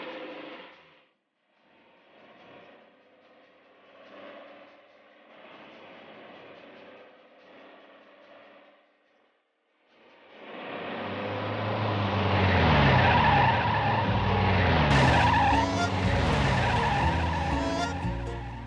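A car that had trouble starting comes to life; a quieter rough stretch gives way to a loud, rising roar and tire noise as it pulls away close by.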